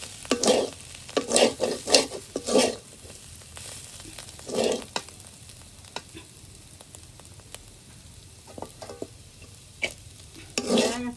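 A vegetable fry sizzles in a kadai while a spatula stirs and scrapes it in irregular bursts, loud at first and then more sparse, over a low steady frying hiss, with no voices.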